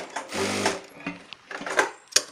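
A sewing machine runs in short bursts while stitching a shirt, its needle chattering in quick rapid runs that start and stop, close up, with brief pauses between.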